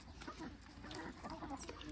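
Farm chickens clucking softly at a distance, faint and intermittent against a quiet outdoor background with a little murmur of voices.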